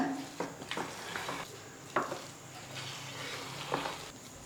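Chopped chocolate is stirred into ragi brownie batter in a bowl, with soft scraping and occasional spoon taps against the bowl at an irregular pace, quiet and close.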